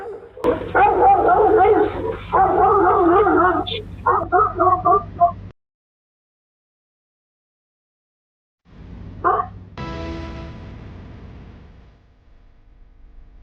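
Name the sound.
aggressive guard dog barking at delivery worker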